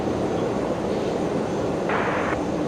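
An airliner departs Brisbane Airport runway 01 right on a full-length takeoff roll, a loud, steady engine roar filling the air throughout, with a brief brighter hiss swelling partway through.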